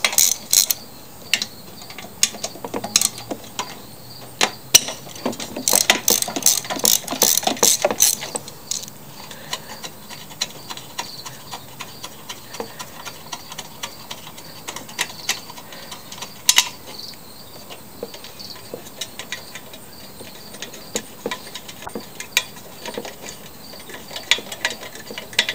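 A ratchet wrench clicks in quick bursts while backing out bolts on a Craftsman lawn mower, with dense rapid ratcheting early on, then sparser clicks and clanks close by, no talking.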